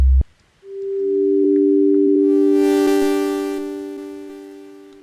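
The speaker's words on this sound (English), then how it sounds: "Really cool thing is being able to add FM to it, because it's going to add it to all the samples." A multisampler synth with FM applied across all of its samples plays two sustained, bright electronic tones that swell in after a short thump, hold steadily with a buzzy upper shimmer, then slowly fade.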